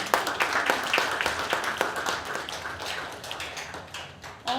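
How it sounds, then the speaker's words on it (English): Audience applause honouring a woman at a Thiru Kural event, a steady patter of many hands clapping in a room, moderately loud and thinning slightly toward the end. "So another round of applause for her."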